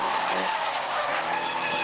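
Porsche Cup race car at Brands Hatch sliding with sustained tyre squeal and skidding over a broad roar of racing engines, loud and continuous throughout.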